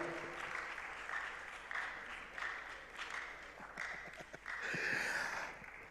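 An audience applauds at the closing ceremony of an innovation week in Ghana, fairly distant and soft, with clapping holding steady and then swelling louder near the end.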